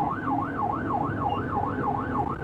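A wailing siren rises and falls in a steady, repeating cycle, loud and close, with faint traffic rumble beneath.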